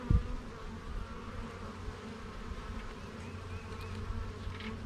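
Honey bees buzzing around an open beehive during a spring inspection, a close, dense and continuous droning hum with individual bees flitting near, no speech.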